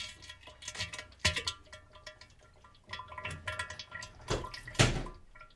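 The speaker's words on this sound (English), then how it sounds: "That's the sound of David having a number 2." Water drips and splashes as a toilet sound effect, with irregular plops and trickles at low level and a few louder splashes.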